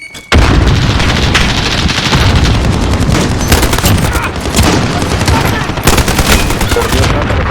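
In a Call of Duty: Modern Warfare team deathmatch, a loud burst of game explosions and rapid gunfire erupts and keeps going as a dense, continuous barrage, with faint voices mixed in.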